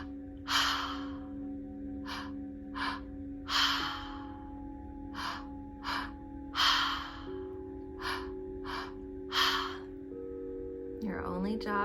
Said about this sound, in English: And let's begin the active breath together.